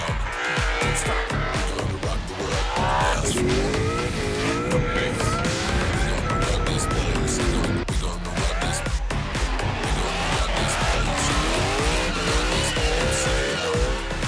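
Supercharged 1UZ Lexus V8-powered car at Leadfoot, climbing the hill under hard throttle with loud engine wail, shifting pitch and squealing tyres, rising and falling through the run.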